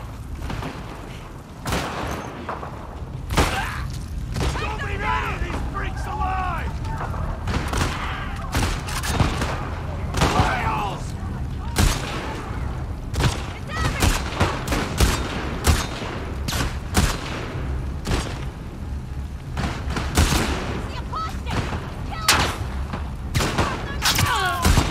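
Sustained gunfire in The Last of Us Part II: sharp, loud shots crack out in quick irregular bursts over a continuous rumbling background, with some voices and game sounds mixed between the blasts.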